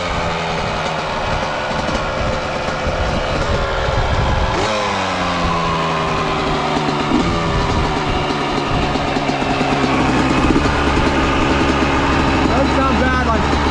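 A Yamaha YZ125 dirt bike engine runs after an air leak was fixed, idling with a steady two-stroke buzz and revving up at moments, loud and close, with people talking over it.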